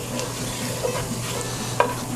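Garlic sizzles gently in melted butter in a pan over lowered heat, a soft continuous frying hiss with a couple of faint utensil clicks, close and steady without talk.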